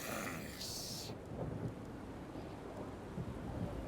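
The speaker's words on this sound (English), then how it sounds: "And the storm's here again." Thunderstorm in the video game Warhammer 2: Total War, a low rolling rumble of thunder with steady rain noise, continuous and fairly quiet, with a brief brighter burst at the start.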